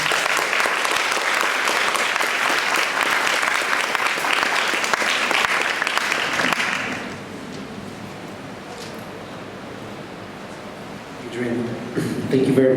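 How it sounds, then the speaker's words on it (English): A room of people applauds at the close of a public debate on stem cells and regenerative therapy, the dense clapping loud and steady for about six seconds before fading to a low murmur, with a brief swell near the end. "Can we give them a round of applause?"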